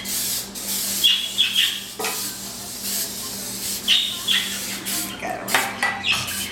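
Several short bursts of cooking spray hiss close by as a cake pan's bottom and sides are coated, separated by brief pauses, over a faint low hum.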